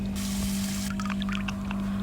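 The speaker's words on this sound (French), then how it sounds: "vous ouvrez le robinet, hop, prenez un peu d'eau" Water running from a tap into a cup in an I am Cat video game, a broadband rush of pouring that stops partway, followed by a few light clinks over a steady low hum.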